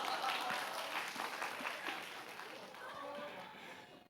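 A church congregation at a worship service applauds in a dense, steady wash of clapping that holds for several seconds, with some crowd chatter mixed in.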